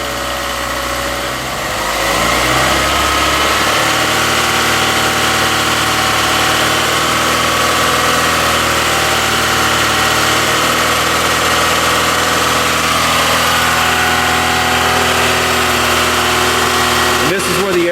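A 1999 Acura CL with the 2.3-litre engine idles steadily up close during radiator replacement, a loud continuous hum with a faint brief rattle near the end.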